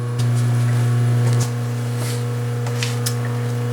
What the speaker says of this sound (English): there's nothing fancy about grinding a parting tool